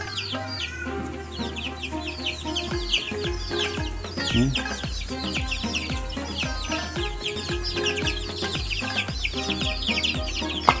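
Meat chickens in a cheap semi-free-range cage cluck and chatter densely and continuously, with many overlapping calls close by and occasional low thumps.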